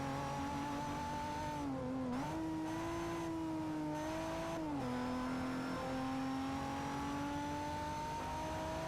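DeLorean engine in Forza Motorsport 4, revving steadily close up with pitch dips at gear shifts around two and five seconds, then a sustained high-rev drone that holds through to the end.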